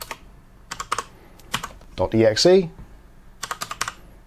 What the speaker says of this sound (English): all we need to do is type in WS